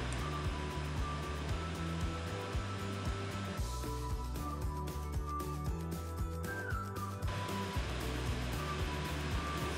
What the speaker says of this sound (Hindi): इधर हमारा तेल गर्म हो गया है। इसमें हम डालेंगे अरबी